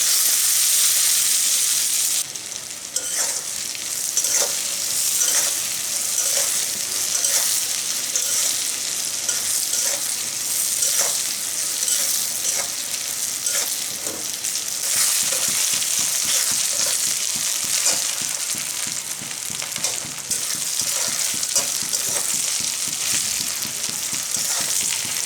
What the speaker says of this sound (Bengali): বেগুনগুলো খুব ভালো করে ভেজে নিয়েছি, এরকম করে ভেজে নিতে হবে।